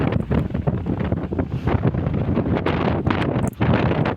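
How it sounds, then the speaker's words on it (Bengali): Strong, gusty wind sweeps through a rural village ahead of rain during a stormy week, roaring loud and close with heavy buffeting against the microphone and no voices. "বাতাসের অবস্থা প্রায় ঘূর্ণিঝড়ের মতো"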